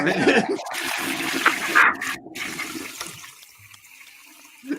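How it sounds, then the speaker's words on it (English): A toilet flush sound effect rushes loudly at first, swirls and drains, then fades to a quiet trickle before a small final gurgle. "Give us the toilet flush or something, you know."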